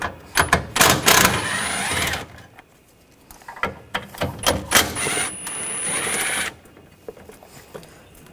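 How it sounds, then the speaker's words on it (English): A 13mm socket wrench on bolts of a 2014-2020 Nissan Rogue during radiator replacement: rapid ratcheting clicks in several loud bursts separated by pauses, close by, no speech. "Using a 13mm socket, take this bolt and this bolt out."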